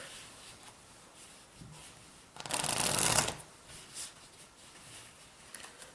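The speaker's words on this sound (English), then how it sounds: "first I shuffle the deck" A deck of playing cards being shuffled by a magician, one brisk riffle burst of about a second standing out loud and close against quiet surroundings, with faint handling noises before and after.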